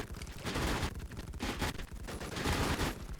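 Rapid gunfire bursts from a video game firefight, dense overlapping automatic volleys filling the whole stretch with little pause, loud and close, with no voices.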